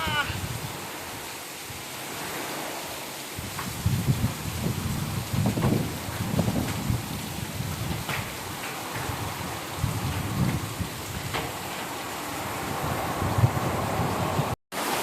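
Hail falling with the year's first rain in a thunderstorm, a dense steady patter and rattle of stones on surfaces with wind, the downpour continuous and fairly loud throughout.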